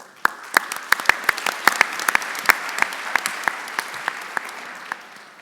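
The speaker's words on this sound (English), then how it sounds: "Just a round of applause for all of our reviewers." Conference audience applause at a bioethics and humanities annual meeting, heard as a moderate crowd clapping steadily with sharp individual claps standing out, fairly close and sustained throughout.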